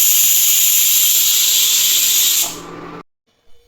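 A pressure cooker holding green mung beans, water and salt lets out a loud, steady hissing whistle of steam for about two and a half seconds. The hiss then fades quickly and leaves near silence.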